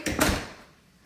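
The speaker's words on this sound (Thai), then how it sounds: "ปิดประตู Daddy" A door being pushed shut indoors in a family home: a couple of quick, close wooden knocks and a thud within a fraction of a second, then quiet.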